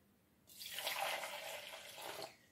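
Lukewarm water, about 800 millilitres, is poured for cooking a dough, a soft continuous splashing stream of about two seconds that starts abruptly and tapers off, fairly quiet.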